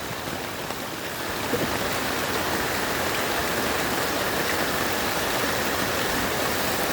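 Steady, dense rushing of floodwater flowing along Visayas Avenue, a constant broad hiss and wash with no pauses, close and moderately loud.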